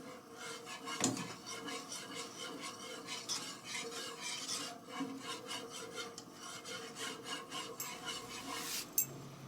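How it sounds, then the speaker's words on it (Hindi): A spoon stirring phirni mixture in a pan, a continuous close scraping and rubbing with a few sharper knocks against the pan. "इसमें पैन में ऐड करेंगे और मिक्स करते जाएंगे। और हम चम्मच को चलाते रहेंगे।"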